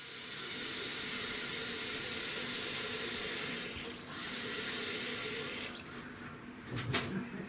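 Water streams steadily from a tap into a pot of orzo pasta with a broad hiss, pausing briefly once, then tapering off with a few splashes at the end.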